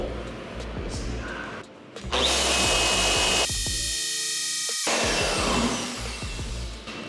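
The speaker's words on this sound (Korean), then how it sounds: "APED 131 아까 전에 가장 좋은 모습을 보였던 폴리셔를 가지고 먼저 이쪽에다가 15초 동안 똑같이 작업을 해주도록 하겠습니다." An APED 131 gun-type car polisher whines steadily at close range, rising to a louder sustained run that continues with its pitch shifting slightly under load. No one talks over it.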